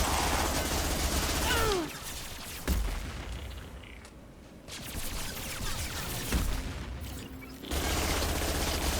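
Gunfire in the sci-fi video game Mass Effect 2 comes in loud sustained bursts and rattling volleys, broken by short quieter lulls before the shooting resumes.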